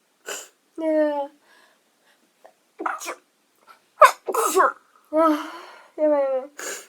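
A young woman sneezes in a sharp, noisy burst partway through, with her voiced exclamations and short vocal sounds before and after it.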